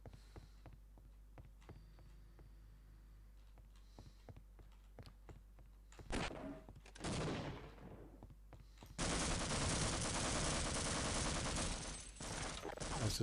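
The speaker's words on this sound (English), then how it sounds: "Stop shooting me! Stop shooting my friends!" Video game gunfire in Half-Life: Opposing Force: sparse sharp shots and clicks at first, then a loud burst around the middle and a sustained heavy barrage of rapid automatic fire toward the end.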